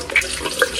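Water poured from a dipper for washing the face makes a brief, close splash and trickle, two small bursts of liquid falling in quick succession.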